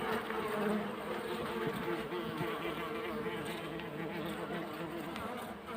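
Honeybees buzz densely and continuously at close range while a Caucasian F1 hive is opened and inspected in January, a steady swarm hum with no clear pauses.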